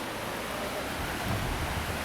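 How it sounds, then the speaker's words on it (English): Crystal Falls in Kinsmen Park, Sault Ste. Marie, Canada, produces a continuous broadband rush of falling water, steady and fairly loud with no voices. "We can hear the falls from here."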